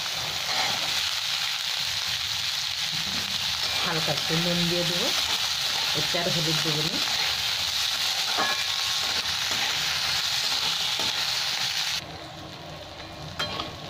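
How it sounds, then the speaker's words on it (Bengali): Onion, tomato and peas sizzling in a pan for a puffed-rice evening snack, a steady close frying hiss with someone talking over it, dropping quieter near the end. "টমেটো করে পেঁয়াজ কেটে রেখেছি, এটা ভালো করে ভেজে নেবো একটু।"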